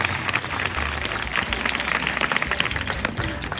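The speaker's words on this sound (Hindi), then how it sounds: "जोरदार तालियों के साथ" Audience applause at a school event as a chief guest is welcomed, a moderate wash of clapping lasting a few seconds with a voice faintly underneath.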